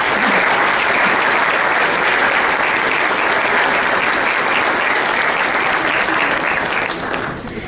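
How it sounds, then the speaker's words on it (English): Steady, dense applause from a large audience honoring the parents, loud and sustained throughout, easing slightly at the very end. "Can I please have a round of applause for all our parents?"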